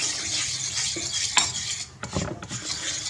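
A spoon stirring a marinade mix for BBQ pork steak after a pinch of salt goes in, close scraping and rubbing strokes with light clinks against the bowl, continuous and fairly quiet, no voices.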